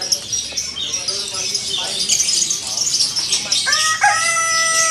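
Chickens cluck busily nearby at a bird market while a rooster crows toward the end, with chirping birds and a person talking in the background.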